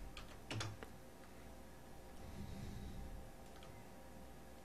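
Typing on a computer keyboard during 3D rigging work, a few quick bursts of near, quiet key clicks, mostly early and again briefly toward the end over low room hum.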